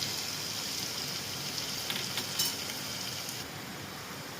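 Garlic frying in a pan for aloo phadphada gives a dense, steady sizzle with scattered crackles and pops throughout, close and fairly loud, with no talk.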